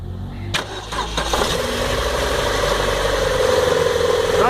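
An Opel Vectra, Astra or Zafira with a noisy engine pulley cranks and starts. It catches within about a second and settles into a steady idle with a persistent whine, close and fairly loud.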